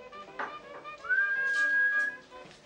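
A man whistles a sustained, steady note in a film scene, rising briefly then holding for about a second, fairly close and clear over a soft background.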